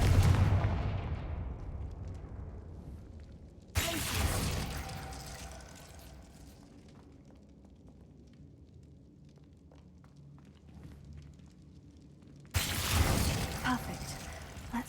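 Confringo fire spells blast in a Harry Potter video game as loud, sudden explosive bursts that fade into rumbling debris, with a long quieter stretch between the first blasts and the last.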